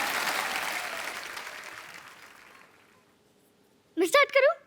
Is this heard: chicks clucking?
no